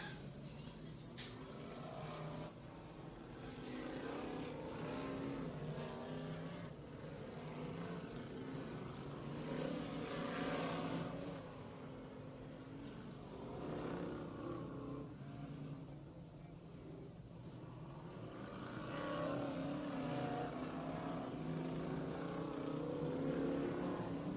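Modified and sportsman race cars circle a speedway oval, engines buzzing and rising and falling in waves as they pass, steady engine drone throughout with no talk.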